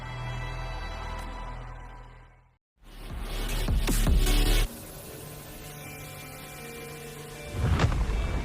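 An explosion in the video game Wuthering Waves hits with a loud burst and rumbling debris after a brief moment of silence, then settles into a sustained roar, with a second sharp blast near the end.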